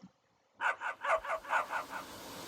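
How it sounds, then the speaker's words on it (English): A run of about seven rapid barks in the Play Dead game comes in after a near-silent start, evenly spaced and moderately loud, ending in a low lingering noise. "It sounded like barking."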